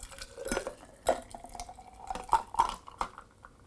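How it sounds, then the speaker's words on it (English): Gin mix and sparkling water pour together into a glass, a close liquid trickle with splashy drips and small bubbling bursts over a few seconds, no talking. "I'm going to just pour these both into my glass at the same time"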